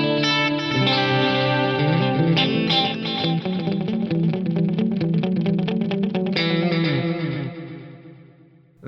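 A Lexicon PCM81 chorus-plus-reverb algorithm at full master depth spreads a lush, shimmering wash over sustained chordal music, thick and steady throughout before fading out near the end.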